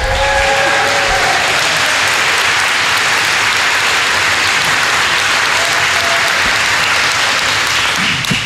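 Loud, dense applause filling a hall at a university academic convocation, sustained and even for several seconds, with a few faint tonal whistles or cheers near the start.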